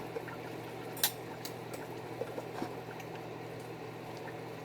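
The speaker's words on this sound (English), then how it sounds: "We're going to let that fry for a little bit." African stew with pounded yam frying in a pot over a fire, a faint steady bubbling sizzle with scattered soft pops and occasional small clinks, low and close.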